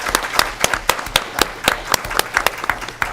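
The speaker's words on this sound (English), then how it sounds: "So I would appreciate a round of applause for this young man right here." A small group claps at a county Board of Supervisors meeting, each clap sharp and distinct in a quick, slightly uneven rhythm, close and moderately loud.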